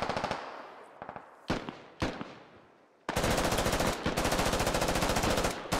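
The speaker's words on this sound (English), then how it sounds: "There's a fire team against a fire team right now. So far, no casualties from this action, but lots of bullets flying around." Sustained automatic gunfire from a firefight between two fire teams in the military shooter Squad, starting with scattered shots, then rapid continuous bursts with brief pauses, loud and close.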